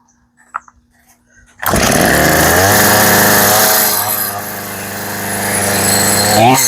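A Poulan chainsaw engine fires up after a few faint handling clicks and runs at a steady loud, buzzing high idle close by, with a brief rev at the end.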